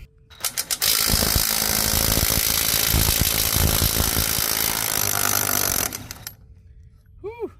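An impact driver hammers at a tight bolt on a Demco auto-latching adjustable coupler, loud rattling bursts then a sustained run of about five seconds, with brief starts before and a short tail after.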